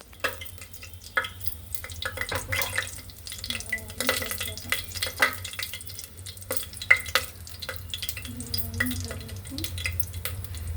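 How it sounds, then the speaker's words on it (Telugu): Mustard seeds frying in hot oil give scattered sharp pops and crackles over a steady low hiss, fairly close, with no talking. "ఆవాలు వేసాను, వేగుతున్నాయి."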